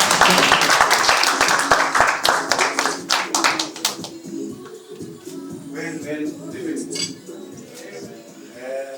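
A crowd at a book launch claps in a dense burst of applause that thins after a few seconds, leaving scattered claps under murmuring and a voice.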